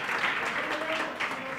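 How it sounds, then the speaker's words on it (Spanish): Brief burst of audience applause at a book presentation on efficiency and productivity in architecture, a short steady patter of many hands with some talking underneath. "un aplauso para José Ramón."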